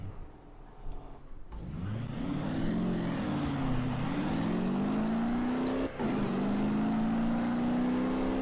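A diesel-engined car in Forza Horizon 4 accelerates hard, its engine note climbing steadily in pitch and staying loud, with a brief dip near the end as it shifts gear.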